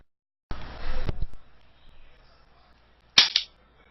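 A comic gunshot sound effect for shooting oneself in the arm: a sharp, noisy burst of about half a second, near silence, then a second crisp cracking shot, both loud against a quiet background.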